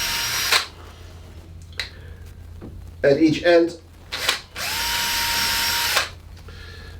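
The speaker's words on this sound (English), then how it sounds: "I'm going to drill a tiny little hole" A power drill with a small bit bores tiny holes into a guitar template in a workshop, heard in several short high whining bursts, the last one sustained, with someone speaking briefly between them.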